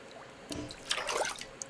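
Water drawn from a toilet basin in The Long Dark, a short splashy trickle and gurgle that builds after a soft start, close and clear with no talking over it.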